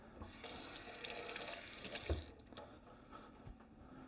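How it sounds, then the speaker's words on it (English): Tap water runs steadily into a kitchen sink as an onion is rinsed under it, a close, soft hiss and splash with a brief bump midway and no talking. "I'm going to very quickly just rinse this off."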